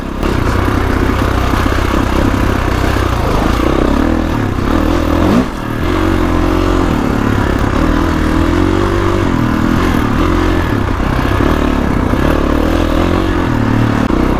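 A 2021 Kawasaki KX450X dirt bike ridden off-road on a trail, its engine droning loud and steady with pitch rising and falling under throttle and clutch work, plus a brief dip midway and constant rattling clatter.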